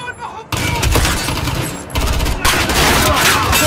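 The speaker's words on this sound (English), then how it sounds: "The gunshots, of course." Gunfire in the video game Call of Duty: Modern Warfare: dense bursts of shots and fusillades crackle loudly and continuously, with sharp onsets and brief pauses between volleys.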